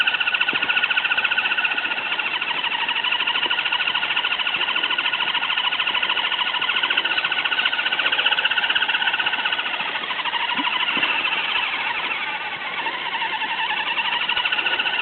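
Abnormal whining gearbox noise from an FTX Kanyon RC vehicle, a steady high-pitched whine with a buzzing edge that holds continuously and loudly throughout, with no talking.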